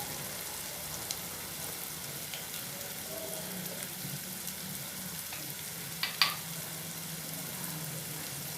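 Coriander powder, garam masala and red chilli powder frying in a pan for paneer bhurji, a steady soft sizzle with faint stirring scrapes and one brief clatter near the end.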